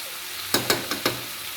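Vegetable curry made with bean seeds fries in a pan over a low flame, with four quick close scraping stirs over a soft, steady sizzle.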